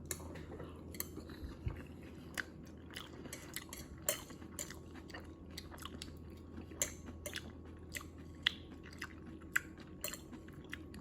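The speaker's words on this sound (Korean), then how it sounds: "일단은 한번 먹어보도록 하겠습니다." Potato starch okonomiyaki being eaten, with quiet, close chewing and soft crunchy bites repeating over a low steady background hum, plus occasional faint clinks of cutlery.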